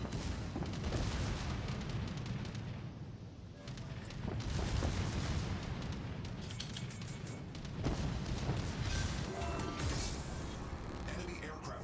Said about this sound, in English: Enemy aircraft carrier sunk.